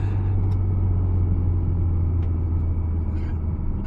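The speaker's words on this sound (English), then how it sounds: "let's at least see where boost onset is on this with this turbocharger" Turbocharged Porsche Cayman 987 at night, a deep steady engine drone and road rumble from inside the car, loud and continuous with faint clicks on top.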